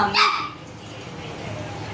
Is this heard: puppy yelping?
yes